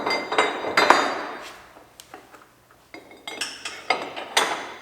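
Metal D-rings drop into the stake pockets of a PJ equipment trailer, giving a series of bright metallic clanks and rattles, close and fairly loud, separated by brief quiet gaps.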